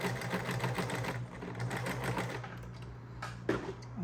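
A sewing machine stitches fabric for an island top, a close, steady rapid clatter of the needle that slows and falters toward the end with a few irregular knocks.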